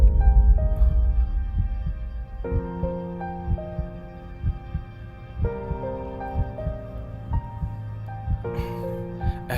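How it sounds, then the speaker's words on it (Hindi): A fast heartbeat in a Hindi-dubbed Hollywood zombie film, heard as soft, regular low thumps pulsing beneath sustained, tense orchestral music, steady and moderately loud throughout. "तुम्हारी धड़कन बहुत तेज है"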